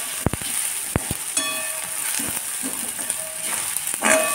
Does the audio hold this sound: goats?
no